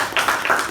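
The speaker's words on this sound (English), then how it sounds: "give her a big round of applause" Audience applause rings out at a meeting, a short burst of dense clapping at steady, moderate loudness with no one speaking over it.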